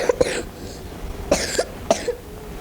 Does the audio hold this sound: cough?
yes